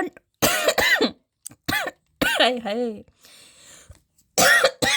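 Several harsh, raspy coughs come in close bursts, nearby and loud, separated by short silences, with a brief breathy pause and a word spoken.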